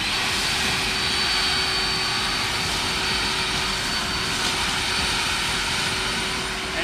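EGO Power+ battery-powered 600 CFM backpack leaf blower running on high, a loud, steady broadband whoosh with a constant motor whine that holds evenly throughout with no talking.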